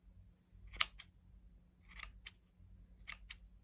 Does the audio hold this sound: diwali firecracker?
no